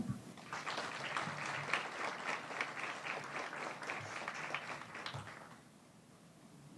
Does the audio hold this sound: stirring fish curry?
no